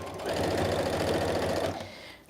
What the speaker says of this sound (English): I know a lot of people don't like this Brothers CS6000i sewing machine, but I gotta say, I really love it.